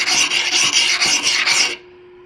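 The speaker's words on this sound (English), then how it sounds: "just grinding off some of the file marks with this really coarse hardware store, sharpen your lawnmower blades kind of stone" A coarse hardware-store sharpening stone rasps across an axe head to grind off file marks, six quick close strokes in an even rhythm before it stops.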